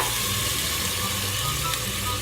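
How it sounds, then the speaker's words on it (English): Water thrown onto a hot grill beneath a turkey cheeseburger sizzles in a steady, loud, hissing spray that holds constant throughout, with no voices. "You throw a little water on the grill like this"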